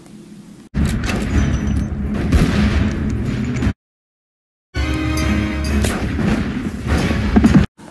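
A break-action revolver fires in loud, reverberant blasts, each report followed by a rolling echo; the shots fill two stretches separated by a second of silence.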